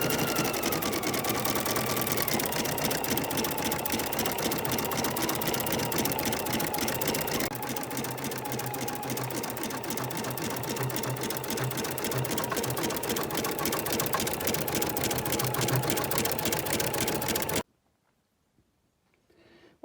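An embroidery machine stitches metallic thread in a steady, rapid mechanical rhythm, close and continuous for most of the stretch before stopping abruptly into near silence.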